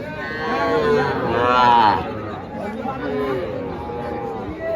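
A Sahiwal calf or cow moos at a busy cattle market, two long drawn-out calls up close over a murmur of crowd chatter and voices.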